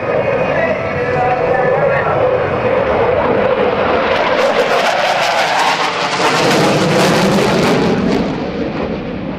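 F/A-18C Hornet jet with afterburner lit during a NAS Oceana airshow demonstration, a loud continuous roar that swells and crackles as it passes, with a public-address announcer talking over it.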